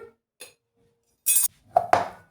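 A metal spoon clinks against a mixer jar while cardamom-nutmeg powder is added, giving a few brief, bright taps and a pair of ringing clinks close by in a quiet kitchen.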